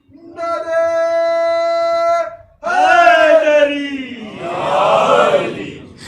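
A single long, held shouted call rings out, then a large crowd at a religious celebration roars back in unison with the Nara-e-Haidari slogan response, loud and close, swelling in two waves.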